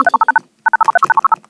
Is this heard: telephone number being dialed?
yes